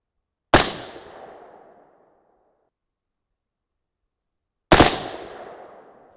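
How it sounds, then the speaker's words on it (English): Two loud, sharp 6.5 Creedmoor rifle shots firing 130-grain Sierra GameChanger rounds, the pair spaced about four seconds apart, each a hard crack with a decaying rumble and no other sound between them. "And I just had a double fire."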